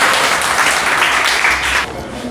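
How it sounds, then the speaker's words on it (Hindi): Applause from a classroom audience of students for Shivani Raj at a maths quiz, a dense burst of clapping that holds steady for about two seconds, then drops off abruptly. "शिवानी राज के लिए ताली होना चाहिए"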